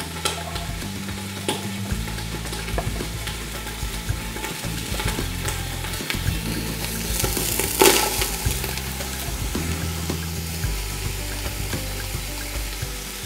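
Onion and leek sizzle steadily in a hot pan over browned meat juices, with repeated stirring scrapes and clinks. The frying is close and continuous throughout, with no voices.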